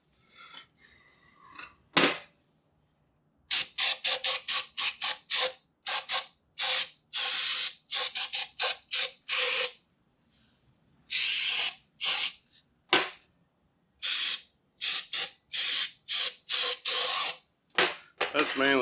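Short, loud bursts of compressed air blast through an Eaton Vickers double vane pump being cleaned out, coming in quick irregular hisses with brief pauses between them.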